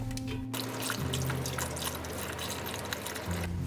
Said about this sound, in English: I do equal parts vegetable stock and water, enough to fill the content in the pot.